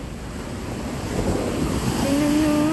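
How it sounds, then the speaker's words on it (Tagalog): Ocean waves crash steadily onto the beach at Liwliwa, Zambales, a loud continuous roar of surf mixed with gusting wind noise on the microphone, swelling slightly toward the end. "nakakatakot yung alon"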